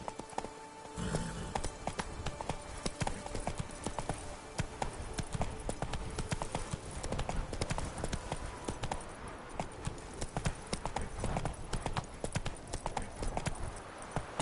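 A horse gallops in The Witcher 3: Wild Hunt, its hooves drumming in a fast, steady clip-clop rhythm that continues throughout, close and prominent.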